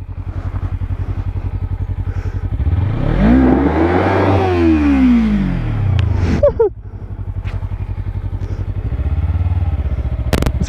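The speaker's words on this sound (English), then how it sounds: "Still a little burnout in the gravel." A Kawasaki Ninja doing a burnout in gravel roars loud and near, the engine revving up and sliding down in pitch with clattering, then dropping off before it picks back up.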